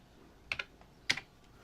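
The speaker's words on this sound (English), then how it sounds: "You type in 960 by 720." Close, quiet keystrokes tap on a computer keyboard in two quick pairs over a soft background hiss.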